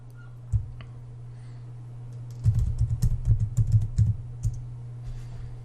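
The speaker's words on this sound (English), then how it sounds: "All I need to do now is hit enter on the keyboard." Keys clatter on a computer keyboard in a quick burst of close clicks after a single earlier tap, over a steady low electrical hum.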